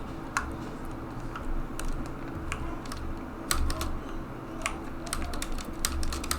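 Rapid clicking of a mechanical keyboard being typed on, irregular keystrokes close by over a steady low hum, no voices.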